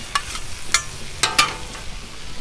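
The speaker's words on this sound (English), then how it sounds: "Let's get this shrimp going now." Shrimp starting to cook on a Blackstone griddle for a Cajun shrimp and smoked sausage stir fry, a steady close sizzle broken by a few sharp scrapes of a spatula on the hot flat top.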